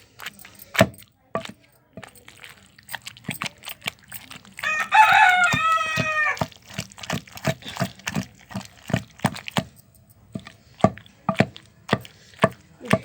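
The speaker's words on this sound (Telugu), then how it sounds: "రోట్లో ఇలా నూరాలండి మెత్తగా" Tomato chilli chutney ground by hand in a stone mortar makes repeated sharp knocks and scraping taps in an uneven rhythm, while a rooster crows loudly partway through.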